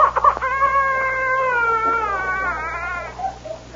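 A drawn-out, wavering cat cry used as a sound effect for a stray cat in a 1940s western radio drama, a single plaintive mewing wail close up, alone and clear.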